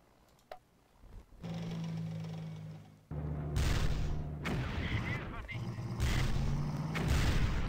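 Artillery bombardment in the WWII strategy game Battle Academy 2 lands on Soviet scouts: a sudden loud onset of heavy booming blasts and rumbling explosions follows a quiet start, continuing in dense, overlapping waves.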